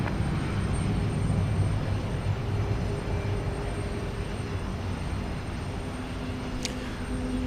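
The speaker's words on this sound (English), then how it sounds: "Lufthansa is getting ready to take off. Once again, this headed to Frankfurt, an A330-300" A Lufthansa Airbus A330-300 bound for Frankfurt waits at Houston Intercontinental before takeoff, its engines a steady, moderately loud broadband rumble with a faint whine held throughout, no voices.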